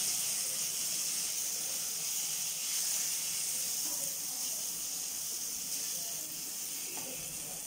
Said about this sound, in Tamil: இது எல்லாத்தையும் இனி வதக்கிக்கலாம்